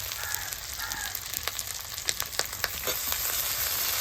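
Potatoes sauté in a hot pan, a loud continuous sizzle with scattered crackles and stirring scrapes, growing steadier and fuller toward the end, close to the listener.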